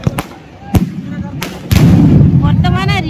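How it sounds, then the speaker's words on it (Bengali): Remote-controlled fireworks at a festival display on Digha beach, with several sharp bangs early, then a sustained louder rumbling crackle of bursts. A crowd murmur runs underneath and voices are heard. "প্রদর্শিত হচ্ছে মুহূর্তে সমুদ্র সৈকতে উৎসব কমিটি আয়োজিত অভিনব আতশবাজি প্রদর্শন"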